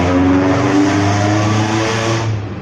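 A loud, close motorcycle engine screams at high revs, holding a steady harsh tone before tapering off slightly at the end.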